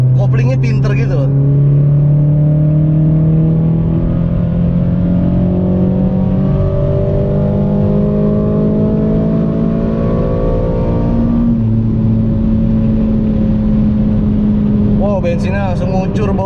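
Engine of a rare second-generation Toyota MR2 W20 with an automatic gearbox during a test drive, a steady loud hum that drops in pitch under engine braking, with people talking over it throughout.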